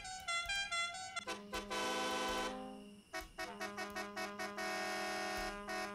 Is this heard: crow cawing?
no